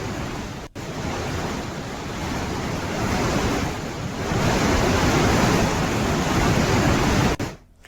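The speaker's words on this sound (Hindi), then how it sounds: "उत्तरकाशी के लिवाड़ी में तेज बारिश से बरसाती नाले उफान पर हैं" Swollen rain-fed streams in Uttarakhand's Uttarkashi district roar after heavy rain, a loud, continuous broadband rush of churning water with buffeting wind, steady throughout with no voices.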